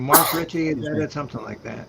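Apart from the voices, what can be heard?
sneeze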